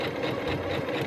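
A Pfaff Quilt Ambition 2.0 sewing machine stitches a box cushion seam, a fast continuous whirring and needle clatter heard up close.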